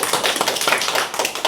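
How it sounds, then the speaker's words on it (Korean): A church congregation claps to encourage newly baptized members, a dense, close burst of many hands applauding briskly throughout. "우리 세례를 식구들 격려의 박수"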